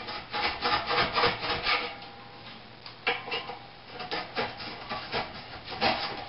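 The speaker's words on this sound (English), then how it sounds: "So I guess you just kind of scrape some of it off" Old gasket seal being scraped off a wood stove, a close, loud, rhythmic rasping with repeated strokes and brief pauses throughout.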